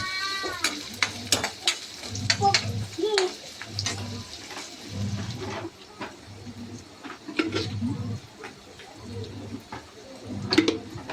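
Onions fry in a pan with green chilies and get stirred in rhythmic bursts of spatula scraping over a soft sizzle, with a cat meowing and other faint background sounds between strokes.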